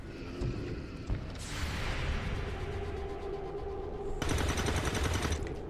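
Bursts of gunfire from the XCOM 2 video game, a dense crackling volley that swells after a second and flares again near the end, steady and fairly loud with no talking.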